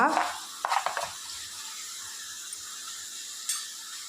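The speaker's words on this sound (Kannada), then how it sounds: "ಈಗ ಸ್ವಲ್ಪ ಹುರ್ಕೊಳ್ಳುವ ಎಣ್ಣೆಯಲ್ಲಿ. ಸ್ವಲ್ಪ ಕಂದು ಬಣ್ಣ ಬರೋ ತನಕ ಹುರ್ಕೊಳ್ಳುವ" Fenugreek and cumin seeds fry in hot oil in a pan, a soft steady sizzle after a few quick scraping stirs at the start and one more near the end.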